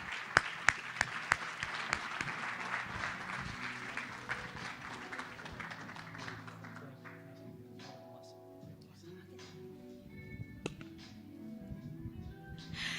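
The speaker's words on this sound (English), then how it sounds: "Let's give them a round of applause as well." An audience at a leadership summit claps in a round of applause, a few sharp close claps at first, then a thinning patter that fades under a low hum and scattered talk.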